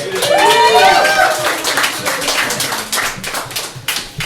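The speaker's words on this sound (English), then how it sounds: "Please give a round of applause to kick us off" A live audience at a poetry reading night gives a round of applause, dense clapping that swells loudly at the start and then thins out into scattered claps, with voices and chatter mixed underneath.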